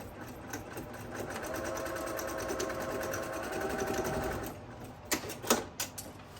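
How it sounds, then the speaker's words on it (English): A sewing machine stitches tote bag handles, running steadily for about four seconds, then stopping and starting in short bursts as it reverses to secure the seam. Close and fairly loud. "You just want to stitch them right up towards the top, starting and stopping and reversing."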